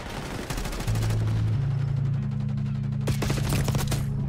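Submachine gun fire in Call of Duty Black Ops 6 plays in quick bursts of fairly faint cracks beneath a steady low droning hum, with a denser, sharper volley near the end.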